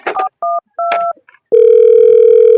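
A phone being dialed: several short two-tone keypad beeps, then a steady continuous tone, loud and close with no talk.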